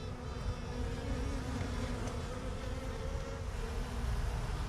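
Honey bees buzz steadily during a bare-handed hive rescue, a dense, continuous droning hum from many insects close by, with no talk over it.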